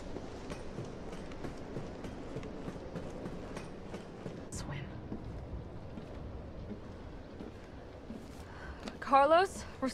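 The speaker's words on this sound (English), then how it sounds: "subway's about to leave." Subway train in the Resident Evil 3 remake game pulling away, a steady low rumble and rattling under continuous talk, with a brief louder screech near the end.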